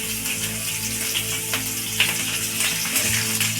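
Chopped onion, ginger and garlic fry in hot oil in a pan while cooking chicken butter masala, giving a continuous sizzle with occasional clinks and stirring scrapes close by, no talking.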